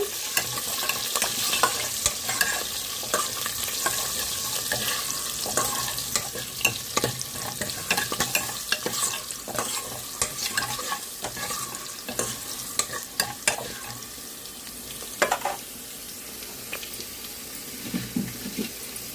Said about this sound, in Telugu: పోపులు వేగుతున్నాయి కదండి